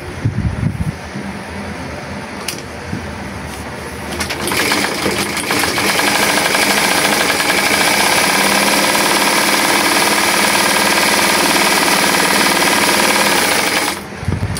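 A small engine starts up and runs steadily, a loud buzzing, rattling drone that holds for several seconds before cutting off near the end.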